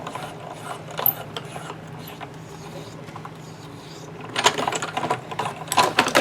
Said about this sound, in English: Bring our die cut machine back in.